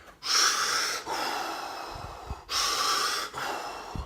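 Deep, deliberate Wim Hof method breaths, two long forceful inhales each followed by a slower exhale, close and steady, with no talking.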